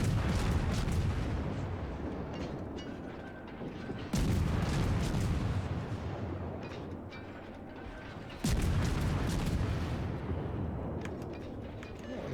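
Naval artillery in World of Warships fires three heavy salvos about four seconds apart, each a loud, sudden blast that trails off into a long, rumbling decay.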